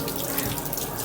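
Tap water pours steadily and loudly into a sink at close range, an unbroken rushing hiss with no voices.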